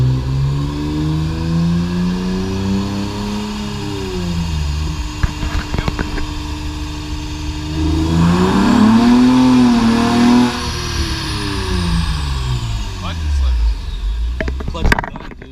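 A 2006 Honda Accord V6 winds up in fourth gear on a dyno from low to high revs, loud and close with a rising then falling engine tone, while people talk over it.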